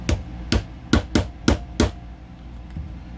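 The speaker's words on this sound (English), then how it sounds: "go ahead and tap it into place using the polymer side of our hammer." A polymer-faced hammer taps a part into place on an HK VP9 pistol, six sharp knocks in an uneven rhythm over about two seconds, then quiet, close and clear with no talk.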